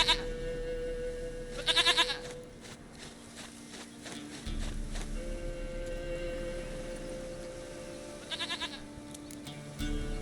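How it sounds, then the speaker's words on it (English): In The Witcher 3: Wild Hunt, a goat bleats in loud nasal bursts over a low game ambience, with several separate bleats spread across the scene. "Goat of mine, dearest, sweetest goat."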